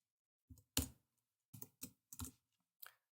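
Typing on a computer keyboard, a few close, crisp key clicks in short irregular bursts with silence between.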